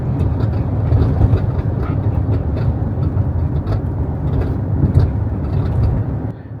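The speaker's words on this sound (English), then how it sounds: "Can you hear how much the tailgate is rattling?" Rattling tailgate on a Hyundai Ioniq 5 while driving, a loud continuous low rumble of road and cabin noise with irregular clattering knocks sprinkled throughout, no talking.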